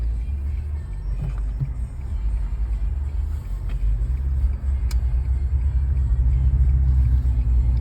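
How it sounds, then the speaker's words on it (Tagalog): Road traffic rumbles low and steady on a city street, with a vehicle engine swelling nearer toward the end and a few faint clicks and knocks over the constant drone. "Hala, traffic."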